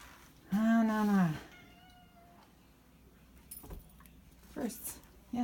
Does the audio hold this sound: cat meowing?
yes